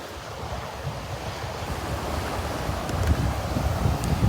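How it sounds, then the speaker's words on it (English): Ocean waves break and wash steadily onto a beach under gusty wind, a broad continuous surf roar that swells slightly louder toward the end. "The waves are nice today."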